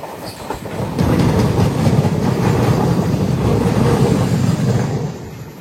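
Passenger train running toward Dwarapudi station, a steady loud rumble of rolling wheels and carriage noise that swells after the first second and holds, with faint clickety-clack and no talk.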